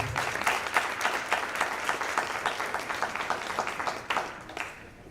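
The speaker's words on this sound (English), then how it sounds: "So we can give them a round of applause." Board meeting attendees give a round of applause for retiring staff: steady, moderately loud clapping from a room of people with a quick, slightly uneven rhythm that trails off at the end.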